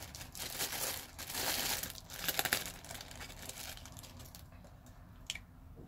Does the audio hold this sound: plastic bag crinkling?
yes